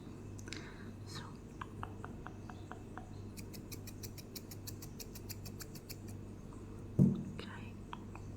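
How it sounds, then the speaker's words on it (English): Scissors snip hair at a hairdresser in close, quiet strokes, first a few separate cuts and then a rapid run of crisp clicks, under soft whispering, with a faint thump near the end. "I will just grab your hair and twist them like this so that I can cut the length"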